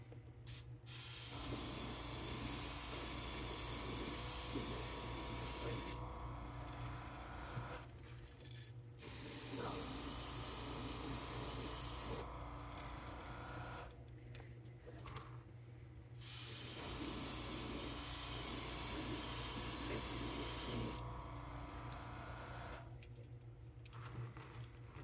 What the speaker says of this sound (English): we're gonna cover the entire bait in this, but we're gonna do it at a distance. Okay, so we just want to mist it.